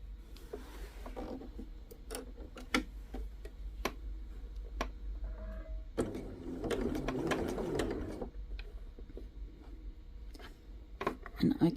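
A sewing machine stitches patchwork strips for a small quilted brooch, running in a steady mechanical whir with ticking clicks, pausing and starting again, with a longer louder burst of stitching in the middle.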